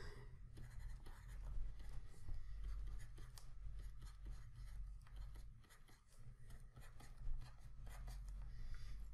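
Math equations are written out by hand in a quiet room, with quick, close, scratchy pen or pencil strokes coming in bursts and short pauses, over a low background hum.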